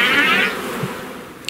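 Bees buzz inside a hive made of reed, a close, dense droning hum that is strongest at the start and then eases off, with a small knock near the end.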